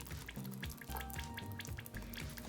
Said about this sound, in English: It's making bubbles. All right. Popping bubbles.